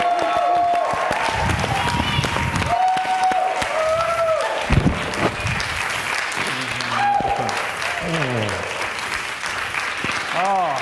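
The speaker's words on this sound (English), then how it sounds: "Give him a powerful, enthusiastic, masterful round of applause." An audience applauds speaker Jameson Triplett, with steady clapping and cheering throughout, mixed with music and some voices on top.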